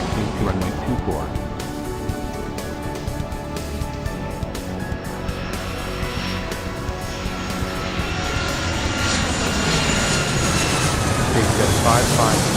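Propeller aircraft engine revving up and accelerating for takeoff in the Airport Madness 3 airport game, a steady loud drone building over about twelve seconds.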